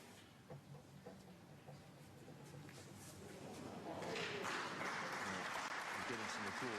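Applause from a snooker tournament crowd swells gradually, quiet scattered clapping at first building into fuller, sustained clapping toward the end.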